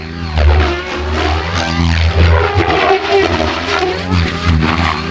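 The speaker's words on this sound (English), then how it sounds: "You can see the helicopter so sharp on the air." RC helicopter running a VBar V8 flybarless system at high head speed, flying in the open: a loud, steady rotor and motor drone with slight surges in pitch as it manoeuvres, alone without talk.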